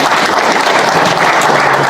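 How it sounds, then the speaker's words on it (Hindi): An audience at a meeting applauds, a dense, loud, continuous wash of clapping hands filling the whole moment without voices. "बीच बीच में ताली बजा दीजिए"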